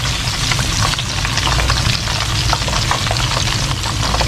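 Bread-coated shrimp balls frying in hot oil, a loud, dense, continuous sizzle and crackle held up close without a break, no voices.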